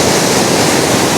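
A rain-swollen stream near Sonada, Darjeeling rushes past during the monsoon, a loud, dense, continuous roar of flowing water close by with no voices.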